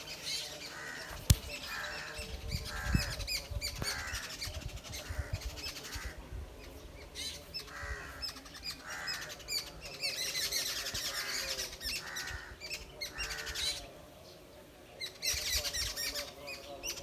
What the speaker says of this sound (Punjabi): ਚਿੜੀਆਂ ਬੋਲਦੀਆਂ ਪਈਆਂ